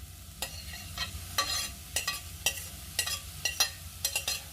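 Beef mince fries with onions in a pan for lasagne, a steady sizzle broken by repeated sharp scraping stirs of a spoon, close and without talk.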